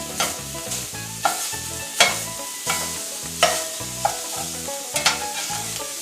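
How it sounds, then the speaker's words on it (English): Sausage sizzles in a frying pan while a square-edged spatula chops and stirs it, giving a steady hiss broken by regular scraping knocks against the pan, close and clear with no talk. "So I've got my sausage in the pan. We're going to kind of chop it up and let it start cooking."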